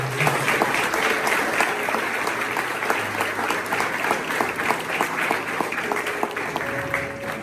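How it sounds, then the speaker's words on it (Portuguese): A church congregation applauds at a youth mission service, with dense, steady clapping filling the room for several seconds at a fairly loud level and some voices mixed in. "dá uma salva de palmas."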